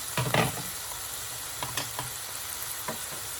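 Onion and pepper sizzle softly in a small amount of oil in a pan, with a few stirring scrapes and clinks over a low, steady frying hiss.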